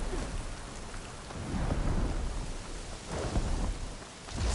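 Thunderstorm with heavy rain in the video game Horizon Forbidden West: Burning Shores, a steady dense rain hiss with rolling thunder rumbles swelling twice, no talking.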